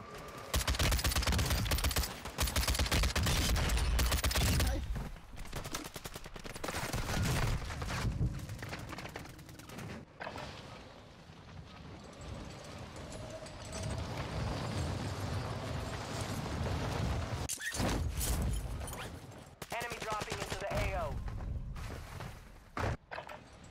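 Gunfire in a shooter video game: heavy bursts of automatic fire and explosions, loud at the start and returning in waves, with game effects between volleys.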